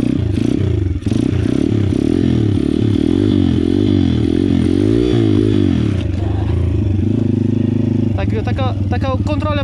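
A Pitgang 140XD pit bike being ridden, its small engine revving and wavering up and down loudly and close, with rattling clatter and someone talking over it.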